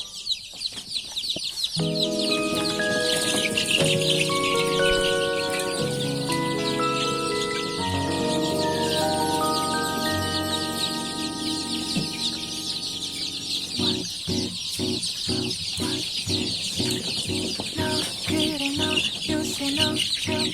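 Baby chicks being moved from a nursery pen to a larger coop fill the air with dense, continuous high peeping and chirping, close and loud, with some lower clucks and scattered rustling and bumps running throughout.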